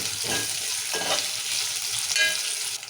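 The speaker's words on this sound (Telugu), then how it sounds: "ఇప్పుడు ఉల్లిగడ్డలు మిరపకాయలు వేసాం కదా, మంచిగా అవి గోలినాయి" Onions and green chillies fry steadily in a pan for a Telugu tomato rasam, a continuous broadband sizzle with a few louder bursts as they are stirred, close and fairly loud, with no talking.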